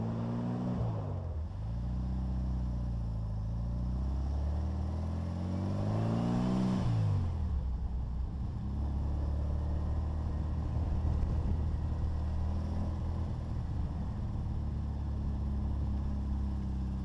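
A 1957 Speedster replica car engine drones steadily from inside while driving, rising in pitch through two upshifts with drops between, then settling into a continuous rumbling cruise.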